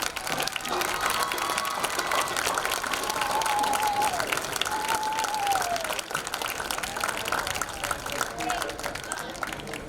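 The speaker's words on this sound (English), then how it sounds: "a loud round of applause" A crowd at a Bay City Western vs. Flint Carman-Ainsworth high school varsity football game breaks into sustained applause, dense clapping and some cheering continuing steadily for several seconds, with faint talk and a whistle-like tone underneath.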